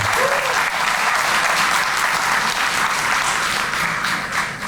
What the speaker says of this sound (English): Let's give them another round of applause if you want